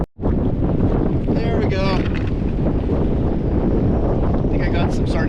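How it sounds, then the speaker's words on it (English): Strong wind roars steadily across the microphone aboard a small fishing boat drifting at sea for California halibut, with sea noise under it. A voice says a few words early, and brief higher whistling or creaking sounds come through the constant rush. "And it's windy."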